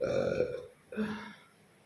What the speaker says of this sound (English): Some people are like, why do you burp?